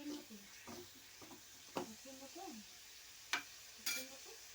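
Masala fries in a pan for a masala bread recipe, giving a soft, steady sizzle with a few sharper spoon scrapes and taps against the pan. Someone talks quietly over it.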